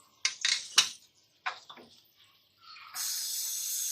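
Sliced onions dropped into a wok of hot ghee, heated for aloo palak, starting with a few close clattering knocks, then a short pause before a steady, loud hissing sizzle rises and holds.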